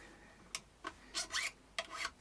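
Sandpaper rubs across guitar fret ends during a re-fret of a Vintage V100, heard as several short, faint scratchy strokes in an uneven rhythm, close and quiet.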